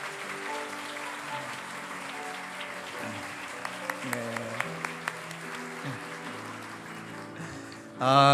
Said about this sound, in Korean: 뜨겁게 박수로 축하해 주시죠.